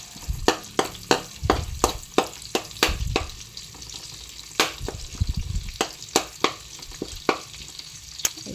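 Onions sauté in a pan with a steady sizzle, broken by sharp, regular scraping clicks from a utensil stirring against the pan, close and clear with no talking.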